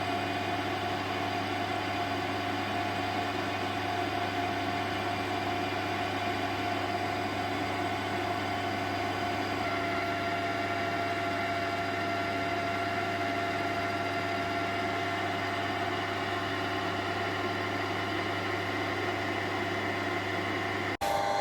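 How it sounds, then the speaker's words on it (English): A lathe running while its tool skims the sharp peaks off a feed screw thread for a Clarkson cutter grinder, giving a steady, moderately quiet motor hum with faint cutting noise and no talking. "Okay, so I just run the lathe tool, run it along just to take off the peaks of the thread"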